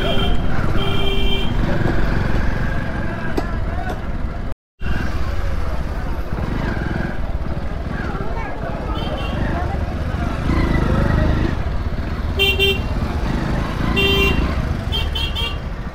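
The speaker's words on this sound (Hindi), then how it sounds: "गाइस गाइस कितना ट्रैफिक हो रहा है यार यहाँ पे" A busy Indian market street full of traffic, with a constant rumble of motorcycles and cars and repeated short horn toots, loud and close. Someone talks over the noise throughout.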